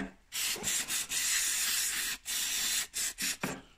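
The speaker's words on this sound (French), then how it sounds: "J'utilise du nettoyant à carburateur." Carburetor cleaner sprays from an aerosol can onto snowmobile exhaust valves from a Polaris AXYS PRO RMK 800 in several loud, close hissing bursts separated by brief pauses.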